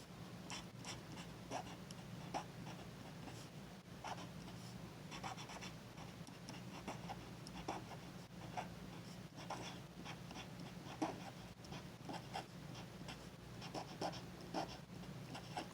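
Paint pen scratching across a handmade Christmas card, a faint, continuous dry scraping of short strokes up close with no talking, over a low steady background hum.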